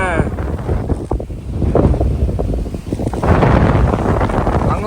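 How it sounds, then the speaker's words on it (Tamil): Strong wind roars and buffets the microphone on a hilltop in the Kolli Hills, a steady loud rush with gusts swelling toward the end, while a person speaks under it. "காற்று இழுக்குதுரா என்ன."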